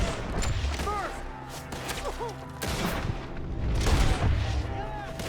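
Gunfire in the video game Red Dead Redemption 2, a rapid scatter of shots and booming thuds throughout, layered with excited character shouting.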